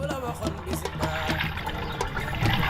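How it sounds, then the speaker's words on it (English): Water drains through a sieve while Senegalese yassa is being prepared in a kitchen, a soft, continuous trickle and patter heard close but quiet. "all the water will pass through the holes and go down."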